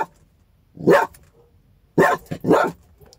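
A dog barks in three loud, sharp bursts, one single bark, then a short pause before a quick double bark, close by against quiet background.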